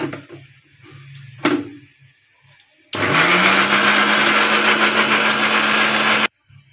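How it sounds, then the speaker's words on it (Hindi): A kitchen mixer grinder whirs loudly and steadily for a few seconds as it grinds grated fresh coconut with water in the jar, starting abruptly after some quiet handling clatter and cutting off sharply. "अब इसको मिक्सी जार में ग्राइंड करेंगे।"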